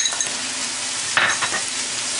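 Onion and vegetables soften in a hot pan for a mushroom fideuá, with grated onion added: a close, steady sizzle broken by a few brief scraping stirs, and no talking.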